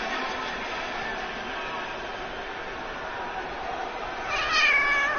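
A cat gives a short meow near the end, rising over a steady background of crowd noise and game commentary audio, with a fairly loud, even bed before it.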